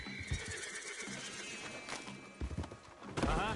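Horse hooves clip-clopping in Red Dead Redemption 2, a steady series of close, mid-loud footfalls with a brief snort or whinny near the end and ambient game background.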